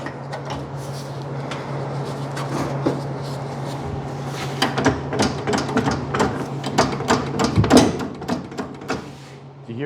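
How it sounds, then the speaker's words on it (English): A custom rocker panel on a 1951 Ford shoebox built on an Infiniti AWD chassis scrapes and clunks as it slides past the original Infiniti pinch weld. Irregular knocks and scraping bursts build toward the end over a steady hum. "That's the sound of the rocker panel sliding past the original pinch weld"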